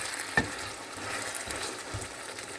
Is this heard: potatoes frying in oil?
yes